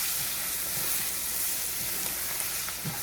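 Onion fries and sizzles in a pan for Spanish rice, a steady loud hiss with soft scraping from stirring now and then.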